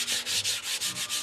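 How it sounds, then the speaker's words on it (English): Rhythmic sanding of a model airplane's wooden parts with a flat block on a flat tabletop, steady back-and-forth strokes, about six passes, close and fairly loud with no voices. "do the final amount of sanding right on my flat part of the table with a flat block"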